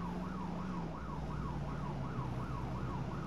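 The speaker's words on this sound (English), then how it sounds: "Ooh, we have a siren." Vehicle siren in the Arma military game, a steady rising-and-falling wail that cycles about twice a second over a low engine drone, loud and continuous with no talking.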